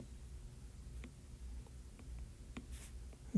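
Faint scratches and taps of writing on a board, a few short separate strokes against a quiet hiss.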